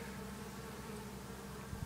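Honeybees at a small fledgling bee farm in Japan hum in a dense, continuous drone, close and even throughout with no voices.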